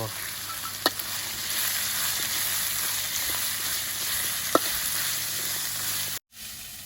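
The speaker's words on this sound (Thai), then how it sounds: "พอผัดเครื่องได้ที่แล้วเนี่ย" Thai curry paste with red chili, green peppercorns and sliced fingerroot is stir-fried in a pan, giving a steady close sizzle with occasional sharp spatula clacks, then a sudden brief cut near the end.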